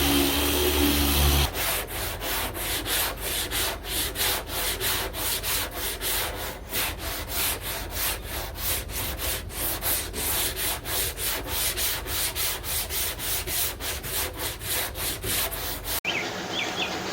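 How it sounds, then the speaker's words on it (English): Hand sanding a car passenger door panel with 11-inch and 16-inch Durablock sanding blocks and 80-grit paper, working in a crisscross pattern; steady, rapid back-and-forth rasping strokes repeat close up for the whole stretch, then stop abruptly. "use a combination of the 11-inch Durablock and the 16-inch Durablock, also with 80 grit"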